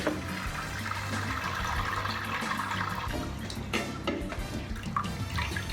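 Liquid from the grains of a home-brewed SMASH IPA drains steadily into a pan, a continuous close trickling and splashing wash with no talk.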